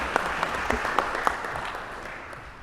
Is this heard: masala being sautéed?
no